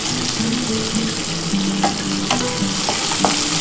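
Chopped onion and green chilli sizzle loudly in hot oil in a pan, a continuous close frying hiss with light stirring clatter and no talk.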